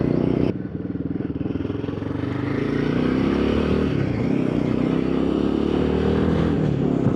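Royal Enfield Himalayan (2026) motorcycle engine revving hard in sixth gear around 4000 RPM, a steady loud drone with rising harmonic pitch sweeps, heard alone without talk.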